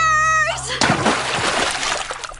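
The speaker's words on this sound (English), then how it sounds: "Making a splash!" A cartoon splash into lake water: after a brief sustained musical tone, a loud plunge hits, followed by sloshing and trickling water that fades out over the next couple of seconds.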